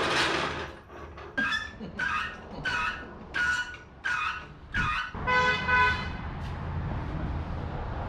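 A squeaky old horn on a 1961 wagon honks repeatedly, seven or eight short, nasal toots in an uneven rhythm, close and loud over a garage rumble, then a longer final blast.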